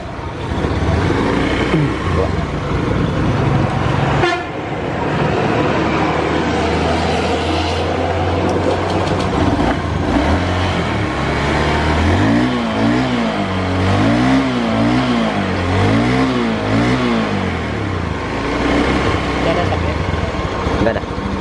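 A Honda Beat scooter with a thick white smoke problem revs repeatedly, its engine rising and falling in short cyclic surges between idling stretches, close and loud, while people talk nearby.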